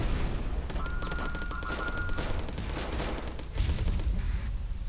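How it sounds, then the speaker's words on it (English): Heavy mauler guns in the space combat game Starfarer fire rapid, overlapping bursts at fighters, a dense crackle of shots with occasional heavier booms. "There's my heavy maulers shooting down some fighters."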